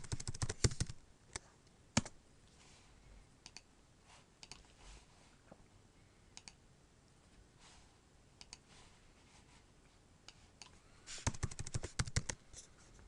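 Computer keyboard typing of hexadecimal color codes: quick bursts of crisp key clicks at the start and end, with scattered single taps in between, close and fairly quiet.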